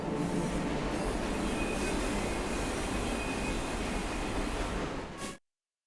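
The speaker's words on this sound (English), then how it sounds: "We have reached the end of the line where this train will terminate." A train rumbles steadily through the game Luna Abyss, a loud, continuous low roar with faint high wheel squeal, running without pause before cutting off abruptly.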